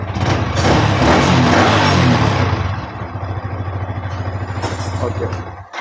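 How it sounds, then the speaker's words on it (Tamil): A motorcycle fitted with an NGK spark plug starts and runs, its engine loud and revving up close before settling into a steady, rhythmic idle chug. "பைக்கை ஸ்டார்ட் பண்ணுற பாருங்க. பக்காவாக ஸ்டார்ட் ஆகுது."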